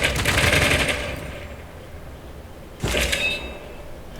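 Units trade fire in Civilization VI, a rattling burst of gunfire that fades, a pause, then a second shorter volley, loud and close with no talk over it.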